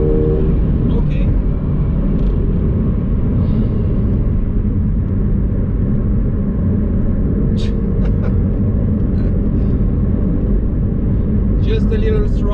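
A 2019 McLaren 720S engine heard from inside the cabin as it accelerates in third gear, a loud, steady low rumble filling the whole stretch with faint clicks and rattles above it.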